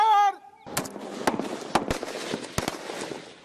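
BSF rifle grouping fire practice on a range, a brief voice first and then a volley of sharp, loud shots at irregular intervals with rumbling echoes between them.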